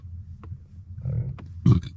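A man's belch, a short loud guttural burst rising near the end of the moment, heard in a garage during an exhaust repair alongside low rumbling background noise.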